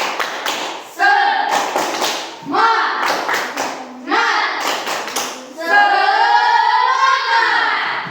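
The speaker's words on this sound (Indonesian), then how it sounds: "Tepuk semangat." A classroom of students doing a rhythmic spirit clap in unison, sharp claps in a patterned sequence mixed with group voices chanting along, ending in a sustained shout.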